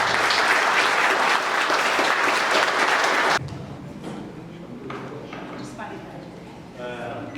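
An audience at a book launch bursts into loud, dense applause for the book's author, which cuts off abruptly partway through, leaving a quieter room where a voice begins speaking.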